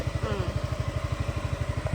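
A motorbike rides along an island road in Thailand, its engine putting out a close, steady low thrumming pulse throughout, with faint road noise and wind behind it.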